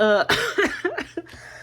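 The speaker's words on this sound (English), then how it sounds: "I'm having to cough through that because" A few harsh, close coughs in a quick burst, dry and throaty, with no talking.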